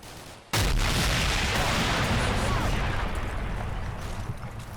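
An RPG fired at a BTR in the Combat Mission: Black Sea war game bursts in with a sudden loud blast, then a dense, roaring rumble that barely fades to the end.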